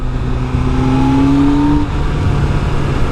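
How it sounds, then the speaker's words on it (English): A 1998 Yamaha R1 motorcycle accelerating hard in third gear, a loud, close engine note rising steadily in pitch, then cutting back to a rough steady roar with wind rush. "I'm going to punch it in third from 8 up to 80"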